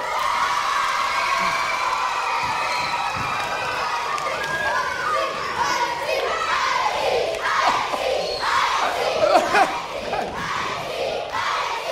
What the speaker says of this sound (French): On applaudit Alexis, mesdames, messieurs.